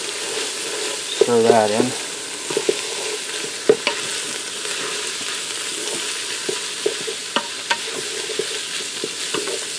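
Taco meat sautés in a Ninja Foodi pressure cooker, a steady soft sizzle with scattered spoon scrapes and a short low clatter near the start; a voice speaks briefly over it.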